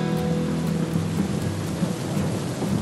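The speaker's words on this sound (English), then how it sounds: "Of course, the bad weather followed us. It's rainy, it's cold, it's nasty." Steady rain with rumbling thunder outside a box blind during a cold, wet morning whitetail hunt, a continuous close downpour with low rolling rumbles throughout and no voices.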